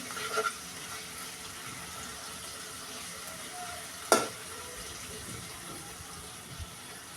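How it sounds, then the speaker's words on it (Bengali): Shrimp and onion frying in oil, a low, steady sizzle in the pan, broken once by a short clatter of utensil. "তেলে পেঁয়াজ দিয়ে দিলাম পেঁয়াজও ভেজে নিচ্ছি"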